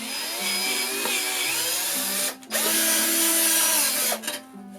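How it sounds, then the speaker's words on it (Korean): A power drill bores diagonally into plasterboard in a sustained, loud whirring run, briefly stopping and restarting before trailing off near the end. "한번 사선으로 드릴을 한번 뚫어볼게요."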